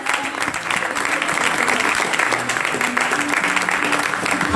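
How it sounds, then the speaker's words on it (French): Worshippers in a church burst into continuous applause acclaiming Jesus, loud, even clapping from many hands lasting the whole moment, with a few voices faintly beneath. "Est-ce que tu peux acclamer Jésus?"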